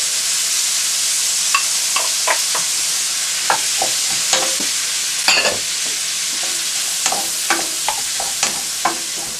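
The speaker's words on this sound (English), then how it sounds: "I'm going to leave the asparagus and the mushrooms cook until they're all nice and soft" Asparagus and mushrooms cook in a pan for a tagliatelle sauce with pancetta and red pesto, giving a continuous bright sizzle broken by scattered sharp pops and the scrape of stirring, with no voices.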